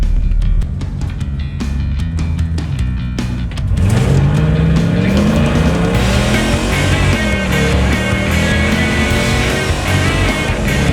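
A Mercedes CLK55 makes a hard launch on a timed acceleration run, its engine roaring loudly and climbing steadily through the revs after a short idle, with some tire noise mixed in.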